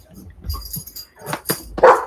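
Dogs inside a house giving several short, sharp barks and yips in irregular bursts, close and loud, with brief quiet gaps between.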